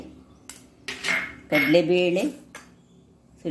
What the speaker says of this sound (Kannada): ಈಗ ಇವುಗಳನ್ನೆಲ್ಲ ಒಂದು ಪಾತ್ರೆಗೆ ಹಾಕೊಳ್ಳೋಣ